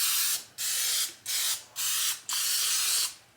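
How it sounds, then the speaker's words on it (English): Pam cooking spray hisses onto a pan in five short bursts, close and loud, with brief pauses between each spray. "now we're gonna go ahead and spray our pan"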